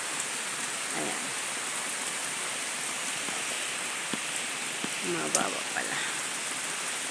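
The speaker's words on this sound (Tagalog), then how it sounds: "Lumalakas ang ulan sa bubong ng saging." Heavy rain drums on banana leaves in a garden, a loud, dense, steady hiss throughout, while a person speaks briefly under it and a few rustles and drips stand out.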